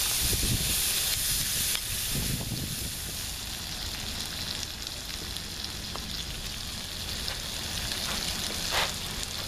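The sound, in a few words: vegetables sautéing in a pan for Philly cheesesteak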